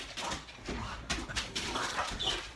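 Dogs at home whimpering and giving short yips and barks, close by and fairly loud, in a restless, uneven run of cries.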